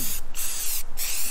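Close hissing spray of white paint coats going onto a Mazda RX-7 hood, steady with two brief breaks where the spray stops, no talk.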